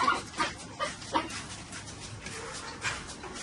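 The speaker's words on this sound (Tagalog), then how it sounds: "Kasi dito haharap ang aso eh." A dog indoors or near a hut making short whimpering yips and soft barks in a few spaced bursts, fairly faint and close, with little else around.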